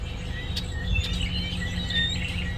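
A chorus of red-winged blackbirds calling outdoors, scattered bright chirps and trills at moderate distance over a low steady rumble, with no voices.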